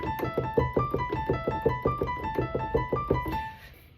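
Video game music from Touhou plays alone as a fast, bouncy melodic line over steady rhythmic accompaniment, then thins out and fades near the end.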